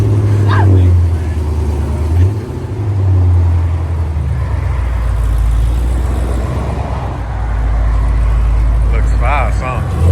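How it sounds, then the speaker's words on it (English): A BMW car approaches and passes on the road, its engine a loud, low rumble that swells and fades, with people talking nearby. "Oh, we got a BMW coming."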